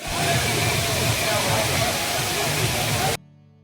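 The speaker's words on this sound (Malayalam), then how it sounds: "നല്ല വെള്ളിക്കൊലുസ് കിലുങ്ങുന്ന പോലെയുള്ള വെള്ളത്തിന്റെ ശബ്ദം" Areekal waterfall, about 70 feet high, pouring and foaming over rocks during the monsoon near Kochi; a steady, loud, close rush of water that cuts off abruptly near the end.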